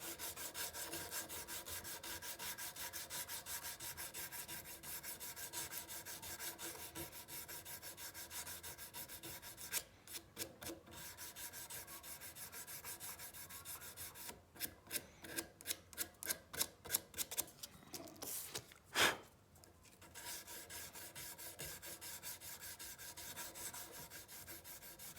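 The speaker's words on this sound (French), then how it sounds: "Je vais maintenant supprimer mes traces de limage en passant dans un premier temps une toile émerie à grain moyen, puis une toile émerie à grain fin." Cellulose acetate is sanded by hand with medium and then fine emery cloth, producing close, steady rubbing strokes that break into quick, rhythmic scrubbing passes partway through.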